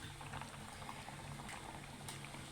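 Soybean curry simmers in a pot, a faint, steady bubbling with small pops and no voices over it.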